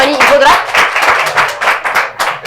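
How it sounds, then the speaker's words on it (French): A studio audience on a TV debate show claps loudly and close, with dense hand claps coming in uneven surges. "on applaudit très fort pour lui"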